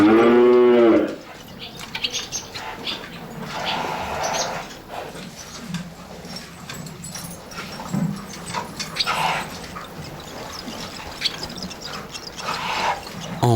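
Calves in a barn give one loud, close moo at the start, followed by quieter shuffling, rustling and scattered farmyard noises.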